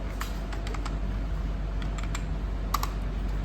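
Keys click on a computer keyboard while data is entered in Tally Prime accounting software: quick irregular taps in small bursts over a steady low background hum, with no one talking.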